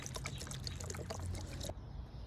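Liquid probiotic inoculant is poured into a bucket, a close splashing trickle with gurgling that cuts off abruptly near the end, leaving quiet background.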